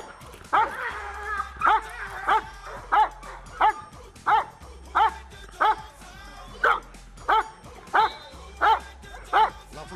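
A dog at a canine training school barks during attack training, giving about a dozen loud, evenly spaced barks close by, some with a whining, yelping edge, separated by short pauses.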